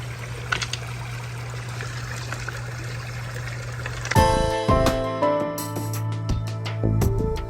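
Water trickles and splashes steadily in a pondless waterfall, a low hum running beneath before the flow grows louder and busier partway through.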